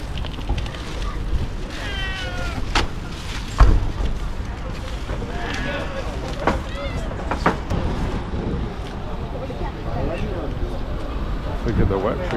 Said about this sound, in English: Oh look, it's feeding time for the cat.